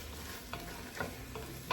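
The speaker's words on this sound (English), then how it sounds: "a good dry sherry, okay? Just want to deglaze, get all those flavors off the bottom there." Dry sherry hitting a hot pan of sofrito to deglaze it, giving a steady close sizzle with a few sharper spatters and scraping stirs, no talking.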